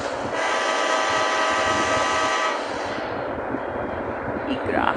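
A train from the Train Life simulator game runs steadily with a dense, continuous rumble and hiss, loud and close, easing slightly after a few seconds as the tone shifts; there is no talk over it.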